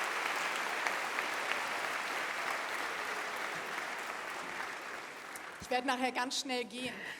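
Audience applause at the Kiel University general welcome ceremony in 2022: a large hall of steady, fairly distant clapping that fades gradually over about five seconds before a speaker begins talking.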